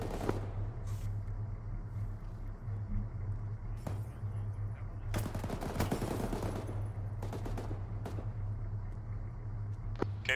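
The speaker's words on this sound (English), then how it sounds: "That's a lot of fucking bullets flying over my head." Sustained gunfire in ARMA, with dense bursts of rapid shots and rounds cracking overhead, building to a thick volley midway and continuing in scattered bursts over a steady low engine rumble.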